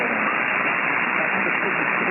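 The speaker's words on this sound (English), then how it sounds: "I hear that the white noise too" Steady, dense band-limited white noise hisses from an amateur radio receiver tuned to the 40-meter band, loud and continuous without breaks or talk.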